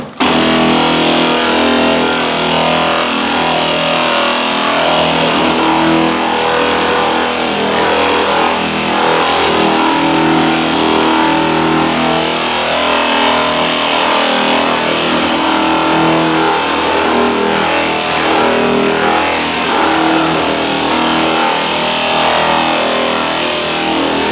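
A power sander with a Velcro pad whirs steadily against car body paint during a filling job, a loud, continuous, even drone with a slight rough grinding texture and no breaks.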